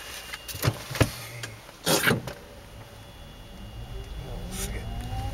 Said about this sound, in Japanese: もう普通にアクセル踏んだら